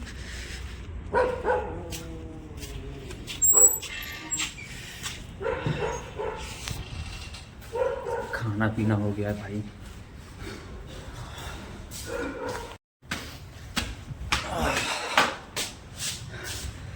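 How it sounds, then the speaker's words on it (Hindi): Dogs barking at night near a school, scattered barks, yips and whimpers coming in short bursts at moderate distance, mixed with people talking and a few knocks and clatters. "रात होता नहीं है कि इन लोगों का भौंकना शुरू हो जाता है।"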